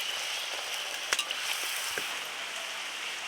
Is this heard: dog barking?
no